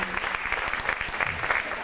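Audience applause at a gathering for a woman named Johanna, with dense, steady clapping from a crowd filling the whole stretch and staying loud.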